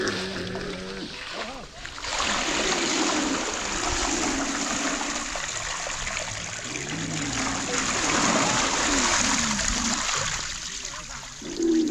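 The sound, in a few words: water pouring out of animal-driven well wheel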